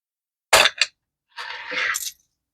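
Pocket change coins drop and clatter, one quick pair of metallic hits followed by a longer jingling rattle, close and loud, with silence before and between.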